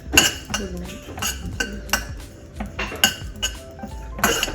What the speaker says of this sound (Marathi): नंतर त्यामध्येच तीळ भाजून घ्यायचे